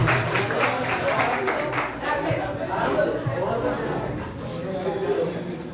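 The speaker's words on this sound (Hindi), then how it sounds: "तो एक बार जोरदार तालियां हो जाएं श्वेता सिन्हा जी के लिए।" An audience at a farewell gathering applauds the poet Shweta Sinha, with rapid clapping strongest at first that fades into steady crowd chatter and talking.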